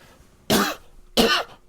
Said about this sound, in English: You have to clear your throat for this?